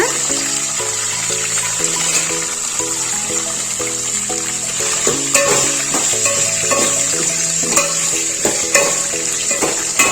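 Green chillies frying and being stirred in a pan while cooking North Karnataka style pulao with peas, with steady close sizzling and repeated scraping stirs under tonal background music.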